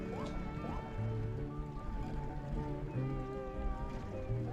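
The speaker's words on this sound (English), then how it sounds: "Mario, you're just swimming through some water." Mario swimming through water in Super Mario 3D World, a steady stream of paddling splashes and game music tones running continuously at moderate level, with no talk over it.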